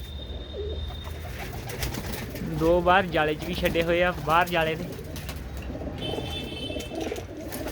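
Pigeons of fine breeds kept in a netted enclosure on a sunny day coo in a cluster of warbling calls mid-way, close by, over steady background noise, with someone talking before and after.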